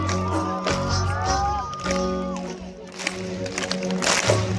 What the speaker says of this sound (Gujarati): મારા બાપ બે હાથ ઊંચા કરી તાળીઓનો નાદ આપો મને.